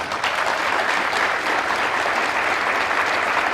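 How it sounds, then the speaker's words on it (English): A room full of people clapping steadily at a 2021–22 National Honor Society ceremony, a dense, even round of applause that holds at the same level throughout. "So everybody can give them a round of applause"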